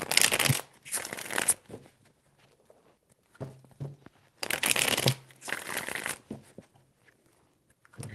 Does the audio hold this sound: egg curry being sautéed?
no